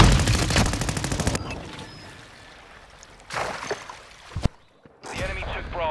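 Automatic gunfire in the video game Call of Duty: Modern Warfare II: a loud rapid burst of shots at the start, then quieter gaps broken by more sharp reports, with game voices calling out over the fighting.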